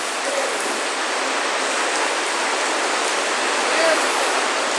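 Steady, loud rain pouring down in a dense, unbroken hiss, like a heavy downpour drumming on surfaces close by, with no pauses or voices over it.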